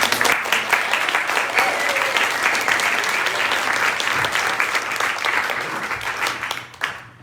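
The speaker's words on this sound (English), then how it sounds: "So a round of applause for everyone." An audience claps for the panelists at an evening panel event, a loud, dense round of applause close to the listener that stays full throughout and then tapers off quickly at the very end.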